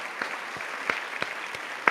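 A short burst of sparse, scattered clapping from a small online audience at a livestream, thin and somewhat distant, with a few louder claps standing out.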